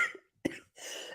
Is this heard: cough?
yes